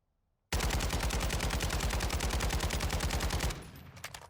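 An automatic gun fitted with an underbarrel attachment fires a continuous burst in a Warzone 2.0 recoil test: about three seconds of loud, evenly spaced rapid shots after a short silence, then a fading tail.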